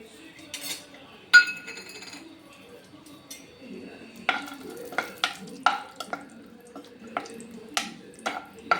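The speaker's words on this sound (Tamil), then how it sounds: "நம்ம இப்போ முந்திரி திராட்சை வறுத்துக்கலாம்." Cashews and raisins roast in ghee in a pan for millet payasam, a faint sizzle under sharp, irregular clinks and scrapes of a spoon stirring against the metal.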